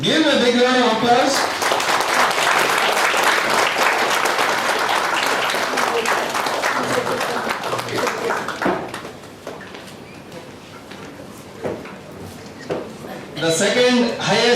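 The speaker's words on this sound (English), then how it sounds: "Give a big round of applause." Audience at a half-day seminar on company law and statutory audit applauds loudly and steadily for several seconds, then the clapping thins and fades, with a voice speaking over parts of it before a final burst.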